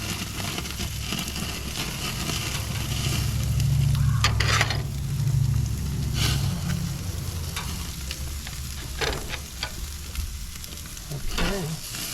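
Food fries in butter in a pan with a steady close sizzle, swelling louder midway and joined by occasional scraping and stirring clatters.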